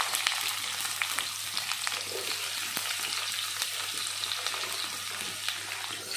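Onion frying in a pan for a kochur loti dish, a bright continuous hiss and crackle of oil with small pops and occasional light stirring, close and unbroken with no voices.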